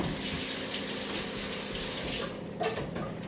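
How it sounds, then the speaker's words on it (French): Steady tap water runs and splashes continuously while a wooden cutting board is washed in a kitchen sink, close and fairly loud, with a brief clatter near the end. "on lave la planche parce que quand t'as une planche en bois, c'est pas l'idéal de laisser ça longtemps dessus"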